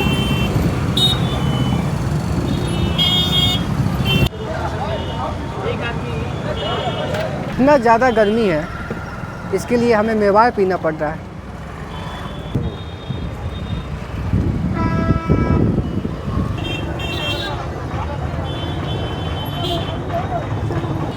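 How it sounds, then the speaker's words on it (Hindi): Traffic stuck in a jam at a railway crossing in India: idling engines, several honking horns and some beeping, buffeted by wind on the microphone while someone talks close by. "रेलवे क्रॉसिंग पे जाम लगा हुआ था"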